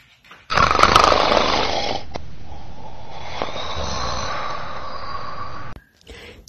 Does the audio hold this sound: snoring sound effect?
yes